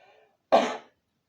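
A single short throat clearing from a throat tickle, one close rasping burst after a faint murmur, then silence.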